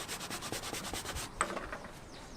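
Rhythmic back-and-forth scrubbing of rusty car vinyl with cleaner on an old muscle car, close and fairly soft, with even strokes for about a second before easing into lighter rubbing.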